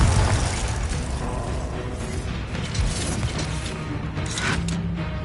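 Confringo fire spell blasts in Hogwarts Legacy, a dense run of booming, crackling explosions and debris with no pauses, loud and close throughout.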